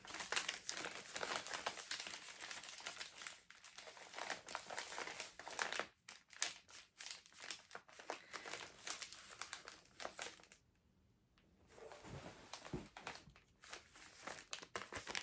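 Wrapping paper crinkles and crumples steadily as a soft advent-calendar gift is unwrapped, a dense, continuous rustle close to the ear with only a brief lull near the end.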